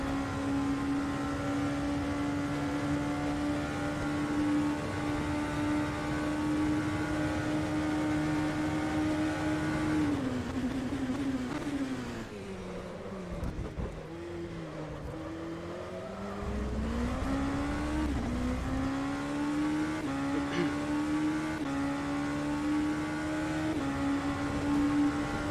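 LMP2 prototype race car in the Le Mans Virtual Series racing game at Monza, its engine holding a steady high drone that dips and swings in pitch through braking and gear changes before climbing again, loud and continuous with no talk.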